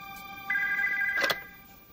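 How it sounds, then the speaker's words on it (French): A telephone rings at night in a French action film, a single bright electronic trill that sounds clearly and close, then cuts off abruptly. "Nous nous mettions au lit quand le téléphone a sonné."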